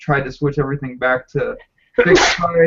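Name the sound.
sneeze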